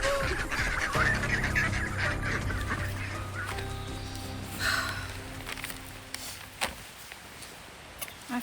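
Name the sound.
green-capped mallard duck calling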